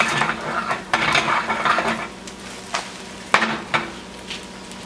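Sausage and cheese omelet sizzling in a hot pan as it is flipped, a steady soft fry broken by sharp metallic scrapes and clinks of the spatula against the pan.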